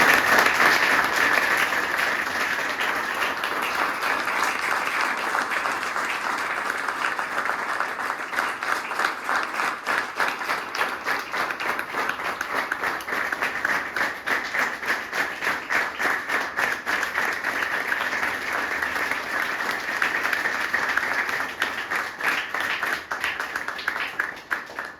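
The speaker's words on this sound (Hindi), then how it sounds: "पहले तो जोरदार तालियां इरशाद के लिए दोनों।" A roomful of people give loud, sustained applause for Irshad at a gathering marking his second recovery birthday, dense clapping that continues evenly throughout with no voices over it.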